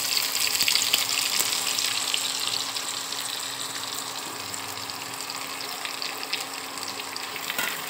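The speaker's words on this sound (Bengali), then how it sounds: "পেঁয়াজটা ভালো করে ভেজে নিচ্ছি আমরা।" Onions fry in a pan with browned chili and garlic, giving a dense, continuous close sizzle with occasional faint stirring taps, steady for the whole stretch without talk.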